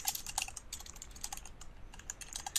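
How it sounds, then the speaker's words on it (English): Steady typing on a computer keyboard, a continuous run of light, fast key clicks at close range with no talking. "by simply typing in the procedures details"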